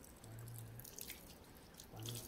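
Water runs from a household tap while a newly installed Ariston water heater is switched on, a steady close splashing hiss with faint dripping, with a short low hum near the start and again near the end.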